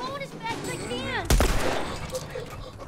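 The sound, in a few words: gunshot from the video game The Last of Us Remastered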